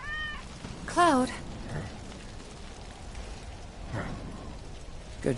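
A cat in a PlayStation 4 video game gives one clear, rising meow near the start, over steady rain-like ambience and a few faint mechanical clicks, with game speech around it.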